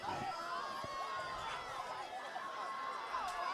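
Crowd noise at a night girls lacrosse game between St. Anthony's and Darien, both teams undefeated: a steady, dense wash of cheering and chatter from the stands, continuous and fairly loud throughout.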